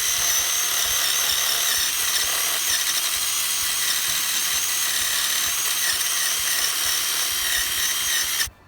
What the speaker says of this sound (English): this first big brass wire wheel attachment that goes into the impact gun or into your drill